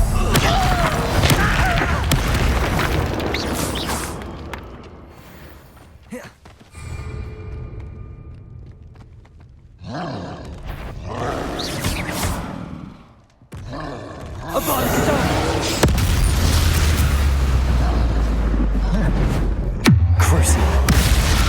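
Spell explosions from the Expulsor curse in Hogwarts Legacy's Dark Arts Arena: loud booming blasts and thuds mixed with game combat noise and voice grunts, rising again in a heavy burst near the end.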